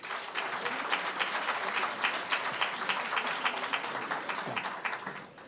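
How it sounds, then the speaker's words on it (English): A crowd applauds finalists at a national financial literacy speech competition, steady dense clapping with some individual claps standing out, continuing throughout. "can we give them a round of applause"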